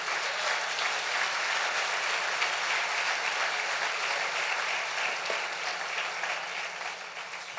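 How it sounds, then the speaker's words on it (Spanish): Steady applause fills a church service, even and continuous throughout at moderate loudness, with no speech over it. "Dale fuerte el aplauso al Rey bendito."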